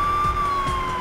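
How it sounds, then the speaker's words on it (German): A police car siren wails steadily in the Lego City My City 2 video game, a loud sustained tone over a low vehicle rumble with no pauses. "Sirene an"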